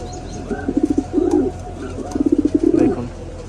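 A pair of black Lahori Siraj pigeons cooing up close, two rolling, throaty coo phrases separated by a short pause, loud and clear.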